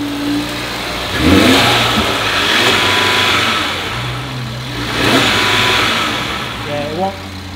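An Audi TT RS engine with a carbon fiber intake idles and then revs up twice, limited by the car's rev limiter, rising and falling in pitch with a throaty intake roar, close by and fairly loud.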